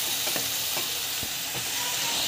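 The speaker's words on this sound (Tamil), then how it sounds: "நல்லா வதக்கிக்கோங்க." Eggplant pieces sautéing in a pan, a steady close sizzle with a few scraping stirs of a spatula cutting through it, no voices.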